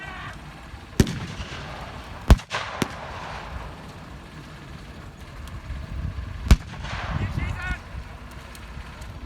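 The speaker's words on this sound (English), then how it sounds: "a Pack 38, wielded by the Germans, also comes into play, firing at these Allied forces" A German Pak 38 anti-tank gun fires during a WWII Normandy reenactment battle: several sharp, loud blasts spaced a few seconds apart, with rumbling echo and distant crackling gunfire between them, and a voice talking over the scene.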